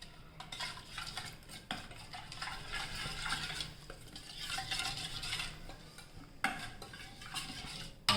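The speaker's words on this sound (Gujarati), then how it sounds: "હવે એકદમ આપણે મિક્સ કરી દઈશું." A spoon stirring drumstick soup gravy seasoned with cumin powder in a pot, steady scraping and clinking of utensil against metal with soft sizzling underneath, moderately quiet and without talk.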